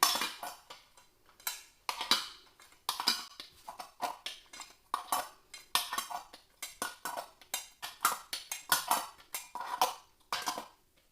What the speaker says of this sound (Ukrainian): Зверху накриваю кришками.